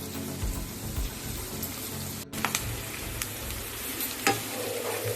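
Chicken sizzles in a frying pan with black pepper powder as a spatula stirs it. Continuous close frying crackle carries sharp scrapes and knocks of utensil against the pan.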